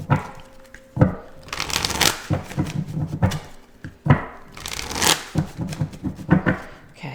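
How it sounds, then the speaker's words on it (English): A Radley Valentine Angel Tarot deck is shuffled by hand, giving loud, close bursts of riffling and sliding cards in uneven rhythmic waves that pause briefly around every few seconds, with no speech. "This particular deck, this is Radley Valentine's Angel Tarot cards."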